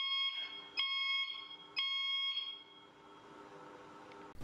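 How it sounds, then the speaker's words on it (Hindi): A loud electronic alarm on a GetOn A2 electric wheelchair sounds in three sharp repeated beeping bursts, then fades into a lingering tone, heard close and alone. "एक लाउड अलार्म भी शामिल है।"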